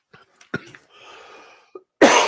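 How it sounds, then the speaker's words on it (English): A man coughing close to the microphone, a couple of short hacks followed by a rough exhale, then a loud harsh burst at the end. "I'm going to have to cough"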